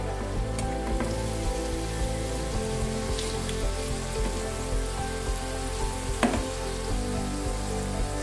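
Homemade aloo veg puffs frying slowly in a little oil over a low flame, a soft, steady crackle and fizz with scattered faint pops and no talking.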